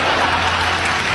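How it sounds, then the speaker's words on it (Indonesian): Audience applause at an Indonesian stand-up comedy show, a dense, steady wash of many hands clapping close and loud throughout, with a faint crowd murmur beneath. "Boleh tepuk tangan dong buat mas-mas ini?"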